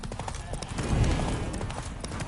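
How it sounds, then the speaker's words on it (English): Horse hooves clop steadily with a snort in The Witcher 3 video game while a character rides along, the hoofbeats running under continuous spoken dialogue. "Spooking my horse."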